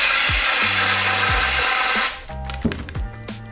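Brake cleaner sprays from an aerosol can into a car fuel line, a loud steady hiss lasting about two seconds, followed by quieter clicks and mechanical tones.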